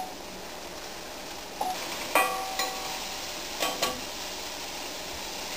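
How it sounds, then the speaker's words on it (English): Chopped garlic and onion fry in a pan with a steady, soft sizzle, broken by a few light clicks and taps. "now I've got the onions and the garlic going"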